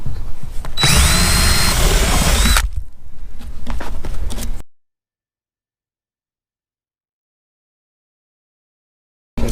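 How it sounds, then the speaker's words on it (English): A power drill bores a hole through a home-made paint baking oven for a heat gun, a loud steady whine lasting about two seconds, followed by shorter rough grinding bursts before it falls silent. "I gotta drill a hole for the heat gun"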